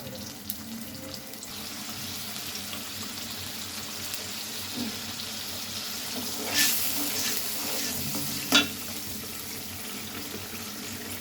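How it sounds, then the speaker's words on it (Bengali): Onion paste fries in a pan while cooking a sweet-and-spicy roast, giving a soft, continuous sizzle with a couple of brief louder splutters and stirring noises. "পেঁয়াজ বাটাটা দিয়ে দিলাম, এটা একটু ভাজা হোক।"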